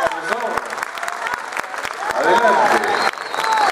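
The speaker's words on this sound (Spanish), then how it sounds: "a quien le damos la grata bienvenida con un cordial aplauso" Applause from a school awards-night audience welcoming a school music director, steady and dense throughout with individual claps audible and voices talking underneath.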